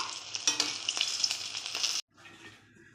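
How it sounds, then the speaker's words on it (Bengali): Rohu fish frying in hot white oil, a loud close crackling sizzle with sharp pops for two seconds, then cutting off abruptly to a fainter, quieter sizzle. "আবার সাদা তেল দিয়েছি, তেলটা গরম হয়ে গেছে। এবার মাছগুলো ভেজে নেব।"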